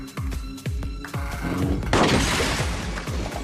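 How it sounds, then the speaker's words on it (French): Several sharp gunshots from a film crack in quick succession, then a burst of car window glass shattering followed by a lingering roar and more distant shots. "Le tueur a visé la fenêtre de la voiture et a tiré."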